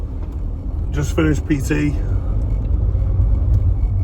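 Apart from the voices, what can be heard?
car interior driving noise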